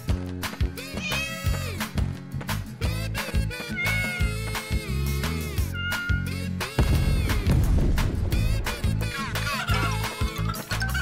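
Repeated cat meows, rising and falling in pitch, set over busy background music with sound effects in a children's animal cartoon.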